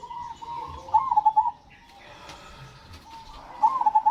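A perkutut, or zebra dove, gives two short bursts of soft trilled cooing, moderately close, separated by a quieter pause.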